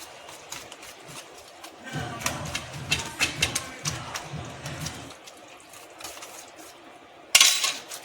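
Cucumber being stirred into yogurt for raita in a bowl, with soft wet mixing scrapes and light clinks of a spoon in a steady rhythm, close by, fading before a sharp clatter near the end.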